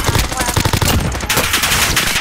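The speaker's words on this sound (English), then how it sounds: "I'm under fire." Rapid automatic gunfire from a Call of Duty Warzone battle royale match, loud and continuous bursts close by, with a voice speaking briefly underneath.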